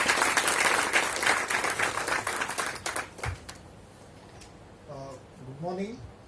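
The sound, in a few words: audience applause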